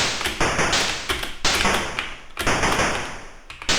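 Repeated gunshot bursts from the Lucky Luke: Nitro-glycerine video game on the Atari ST, with sharp taps and thuds firing in quick irregular clusters over a constant dense background of game noise.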